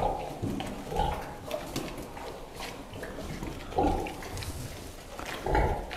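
Pigs in a barn or shed grunt and snuffle close by, short repeated grunts coming in irregular bursts over several seconds, with no talking.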